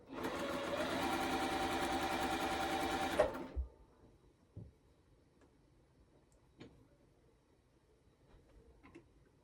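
A sewing machine runs steadily for about three seconds, stitching down the crease line of a quilt block for a tiny farm tractor quilt, then stops, leaving quiet scattered clicks and handling sounds.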